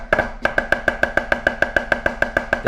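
Drum practice of double stops with diddles: a steady, even stream of about fourteen crisp, close strokes with a popping attack, played alone at a brisk, regular pace.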